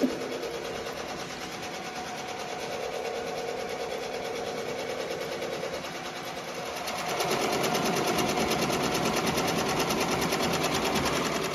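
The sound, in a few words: Ricoma embroidery machine stitching patches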